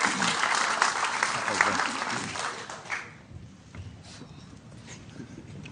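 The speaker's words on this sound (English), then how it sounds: "big round of applause for this good-looking young man" Audience applause at a meet-the-candidates local board event, a moderate crowd clapping for about three seconds before thinning into scattered claps and low room murmur.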